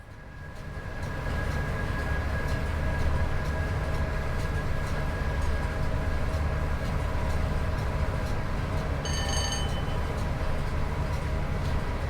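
Electric train on the West Coast Main Line in Train Sim World 5, coasting in rundown in a snowstorm, a steady loud rumble of wheels on rail with a brief high electronic tone near the end.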